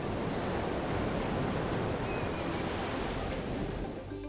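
Ocean waves washing onto the sandy beach at College Cove in Northern California, a continuous broad roar of surf, loud and close, with no voices.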